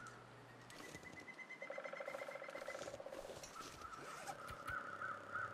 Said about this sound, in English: What the hell is that noise, though? Is that supposed to be a bird?